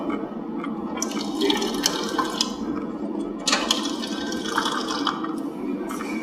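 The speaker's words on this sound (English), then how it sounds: "this is a combination of toilet, sink, and the sink provides fresh water" Water runs steadily from a combination toilet and sink unit that supplies fresh drinking water, with a continuous splashing rush and small bursts of louder spatter, close and alone.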